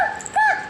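A voice mimics a crow in two short, nasal caw-like bursts, the second stronger and rising. The sound is brief, close and fairly loud.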